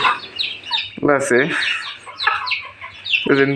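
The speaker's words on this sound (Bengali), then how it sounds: "সুন্দর করে এই ডাকে। এটা হচ্ছে ছেলে কোয়েল" A male quail calls in short repeated bursts, close and fairly loud, with faint chirping from other birds in the background.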